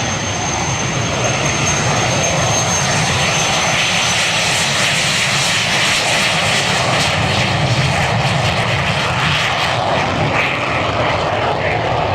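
A vintage night fighter aircraft flies past at an air show, its engine drone loud and sustained throughout as it sweeps by.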